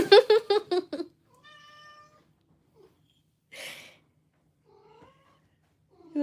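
A brown cat lets out several meows: a quick burst of short cries, then a drawn-out tonal call, a few softer mews and a breathy sound, close and fairly quiet against a silent room.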